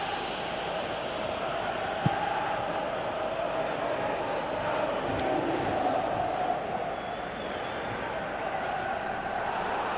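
A football video game stadium crowd in a Manchester United Master League match, a steady loud roar of massed fans with rising swells of reaction and a sharp thump near the start, no voices over it.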